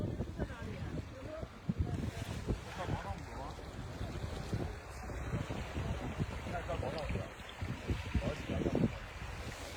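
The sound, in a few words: water at Yamdrok lake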